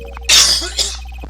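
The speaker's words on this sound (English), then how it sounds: "Sorry, I have to cough." A single sharp cough, followed by a smaller second cough, close and loud against a quiet background.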